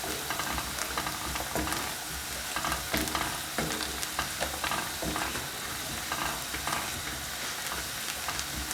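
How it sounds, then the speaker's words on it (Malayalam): Pepper powder, turmeric, salt and chili powder being stirred into sautéed onion, ginger and garlic in a pan for vegetable wheat pasta: a steady close sizzle with repeated scraping stir strokes, no talking. "ഇനി കുരുമുളക് പൊടിയും മഞ്ഞൾപ്പൊടി, ഉപ്പ് നമുക്ക് മുളക് പൊടിയും കൂടെ ചേർത്ത് ഇളക്കാം."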